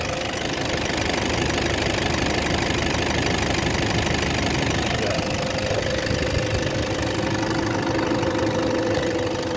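Stock 2014 Toyota Fortuner with a 2.5-liter D-4D intercooled turbo diesel idles steadily nearby, a continuous knocking diesel clatter with a low rumble, unbroken and without speech.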